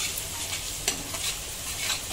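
Chopped ginger fries in hot oil in a pan for prawn rice, a constant bright sizzle with a few sharper scraping stirs breaking through.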